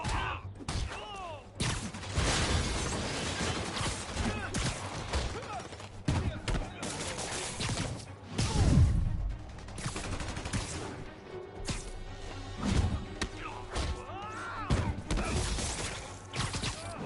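Armed enemies in a Spider-Man video game fire guns in repeated bursts of rapid shots, loud and dense throughout, mixed with thuds, clanks and game action.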